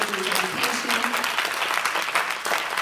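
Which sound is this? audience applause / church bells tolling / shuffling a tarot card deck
audience applause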